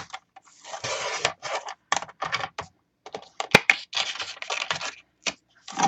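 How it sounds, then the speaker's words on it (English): An old paper trimmer with a worn blade cuts watercolor paper in a string of short scraping, crunching strokes, close and fairly quiet, with brief gaps between cuts. "I think I need a new blade on my trimmer."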